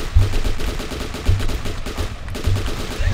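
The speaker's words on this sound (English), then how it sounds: "So I start shooting him in the fucking chest." Gunfire in the video game The Last Stand 2: a few repeated low, punchy shots at uneven intervals over a steady busy game background, with no talk.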